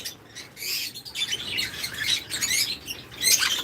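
Lutino Fischer's lovebirds, a red-eyed pair kept at a bird farm, chirp and squawk in quick, busy bursts. Several birds call close by at once, with no talking.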